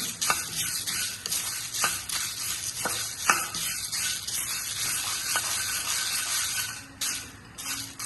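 Coffee beans from a home garden are stirred in a hot pan as they lightly roast to loosen their skins, giving a steady dry sizzle and hiss punctuated by scraping clicks of the stirring, close and continuous.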